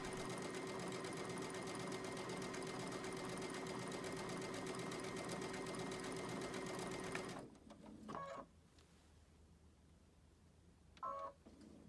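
A sewing machine runs steadily while doing bobbin work stitches, a loud, even, rapid mechanical chatter that stops abruptly, followed by a few short clicks and beeps from the machine.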